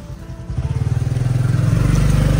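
A motorcycle on a narrow street, its engine close and loud with a rapid, pulsing putter that builds steadily as it draws near.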